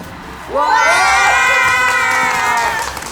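A group of children cheers loudly, shrill excited voices swelling after a moment of background noise and holding for a couple of seconds before easing slightly.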